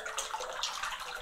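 Water pours from a hose or tap into a tire tank waterer, a soft continuous splashing and rushing that stays fairly quiet and steady for a brief moment.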